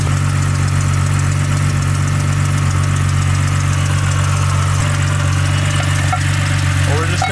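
A BMW N52 car engine idling close by with a steady, loud, low mechanical hum and a constant drone, with some faint background noise near the end.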